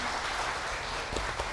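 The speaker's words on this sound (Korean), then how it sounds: "큰 박수 부탁드립니다" A lecture audience applauds to welcome a professor of family medicine to the stage, a brief, soft, even patter of clapping.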